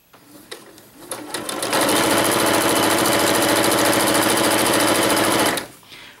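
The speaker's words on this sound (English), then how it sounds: "I have actually have turtle and rabbit speed on my sewing machine, so mine's at rabbit." A home sewing machine stitching quilting fabric at its fast rabbit speed setting starts with a few sharp clicks, then holds a loud, steady, rapid mechanical whir for about four seconds before stopping abruptly.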